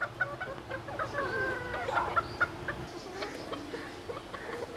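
Imported Buff Mottled and Black Rose Comb chickens cluck and chatter at a fancy hen farm in Faisalabad, a busy, close flock of fowl calls over a low background hum.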